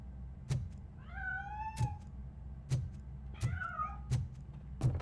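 Cat meowing in the video game RoboCop: Rogue City, two clear rising-falling meows a couple of seconds apart over a low ambient hum with periodic soft thuds.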